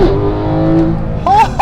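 Porsche 911 GT3 of the 991.2 generation accelerating, its engine note climbing steadily and loud and close, with a brief higher rising tone near the end as revs change.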